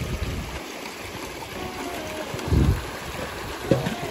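A river flows steadily with a continuous rushing wash and soft gurgles, broken by a few brief splashes or knocks near the end; no voices.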